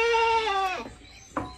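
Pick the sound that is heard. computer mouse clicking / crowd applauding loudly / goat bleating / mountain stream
goat bleating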